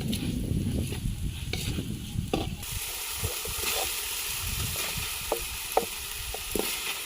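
Marinated chicken for a ghee roast goes into a hot pan. Low clattering and stirring give way to a bright, continuous sizzle with scattered scraping clicks, close by and moderately loud.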